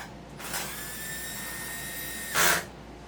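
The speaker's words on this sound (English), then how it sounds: "Now the noise you hear from this drill" A power drill runs on a low torque setting of 3 pounds while IT lab server racks are rebuilt. A steady motor whine lasts about two seconds and ends in a short, louder burst. It sounds close, with no talking.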